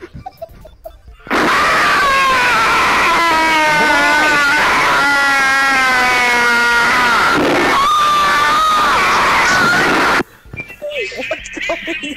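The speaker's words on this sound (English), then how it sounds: "I hear random screaming that keeps cutting out." Random screaming blares in loud, sustained, wavering yells for about nine seconds, then cuts off abruptly, leaving quieter background voices and chatter.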